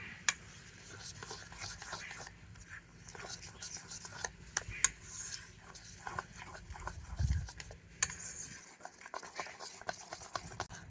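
A whisk beating batter with ripe mango pulp for a Bengali pitha, soft rapid scraping and tapping against a bowl, fairly close and quiet, with a brief louder thump partway through.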